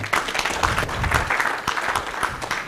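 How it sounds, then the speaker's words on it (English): Audience at a high-level regional development conference applauding a panel, loud continuous clapping from a sizeable crowd with a low rumble of room noise underneath. "A final round of applause."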